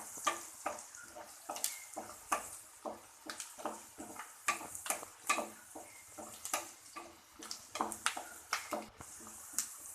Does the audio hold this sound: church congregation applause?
no